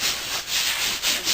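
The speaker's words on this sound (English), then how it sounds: "After the second coat is dry, we do another light sanding, making sure we get all the edges and feather in" Light sanding of a drywall patch after a second coat of compound dries, a steady rasping rub in repeated back-and-forth strokes, close and moderately loud with no talk.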